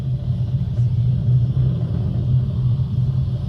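Deep, steady rumble of a SpaceX Falcon 9 rocket climbing through supersonic flight during a Dragon launch, a continuous low roar heard from afar with no break.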